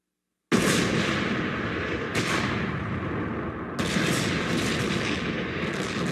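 Bombs explode in a Batman animated series episode set in Gotham's Crime Alley: loud booming blasts, one after another after a silent start, with rumbling debris and crackle filling the gaps.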